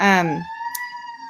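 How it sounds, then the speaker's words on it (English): A voice trails off as a distant siren wails in the background, holding a steady high tone with a faint warble. "sorry about that siren outside"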